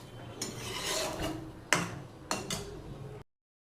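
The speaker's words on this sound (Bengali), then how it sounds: "কড়াইটা শুধু মাজলেই হবে" A wok, or kadai, being scrubbed by hand during dishwashing gives a steady close rasping scour, broken by a few sharper scraping strokes near the end before stopping.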